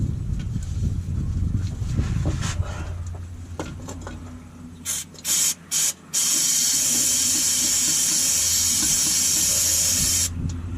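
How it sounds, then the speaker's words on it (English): A sustained hiss of maintenance spray aerosol runs for several seconds after some brief bursts, steady and close, with clattering handling noises earlier, while a truck is readied for its MOT. "Right, gonna wash out some maintenance spray."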